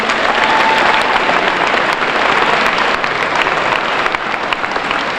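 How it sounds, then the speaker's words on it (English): Dense, loud applause from an audience of about 280 at an AmeriCorps opening day ceremony, honoring the program reps; the clapping stays steady and full throughout with no break. "Let's give one last round of applause to all the program reps."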